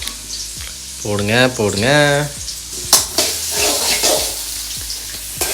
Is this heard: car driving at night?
no